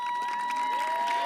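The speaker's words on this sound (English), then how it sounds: "Clap it up, clap it up." Applause from a crowd at the 2023 Nantucket High School graduation ceremony: steady, dense clapping over a faint constant electronic tone from the sound system, with scattered cheering.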